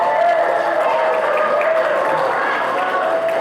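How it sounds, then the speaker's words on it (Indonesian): Courtroom visitors applaud at a trial hearing, a steady, even wash of clapping from a seated crowd that holds at moderate loudness throughout, with murmured voices blended underneath. "Tidak perlu tepuk tangan."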